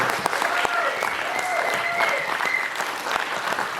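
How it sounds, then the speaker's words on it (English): An audience applauds steadily at a Q&A session, a dense wash of clapping with a few louder individual claps standing out, sustained throughout. "how about one more round of applause for this group?"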